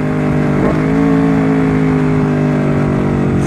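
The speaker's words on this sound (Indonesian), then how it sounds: "Dari mesin standar dengan knalpot racing dari Tritec EvoX X3" A stock-engine Honda CBR250RR with a Tritec EvoX X3 NRC racing exhaust holds a loud, steady high-rpm drone, the tone sustained with slight wavering and no voices.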